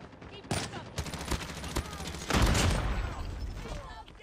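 Hipfire bursts from the QQ9 submachine gun in the mobile shooter game COD Mobile; rapid clusters of close gunfire with short pauses, ending in a longer heavy burst, with no talking over them.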